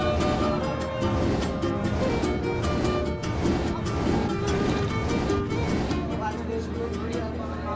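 At Sadarghat launch terminal in Dhaka, river boats produce a dense, loud drone of engines and low tonal hums, with wind and a busy wash of background activity.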